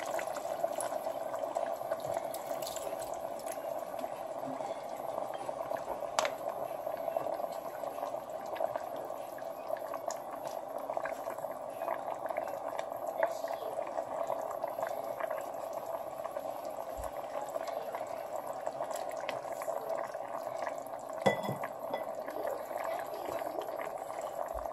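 Eggplant and salted fish simmering in water in a pot, giving a steady, soft bubbling that stays even and unbroken throughout, with faint occasional ticks.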